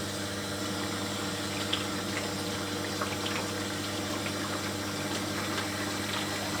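Tap water flows through a hose into a bottle of a water unit, a steady close rush with a low pump-like hum underneath and no talking.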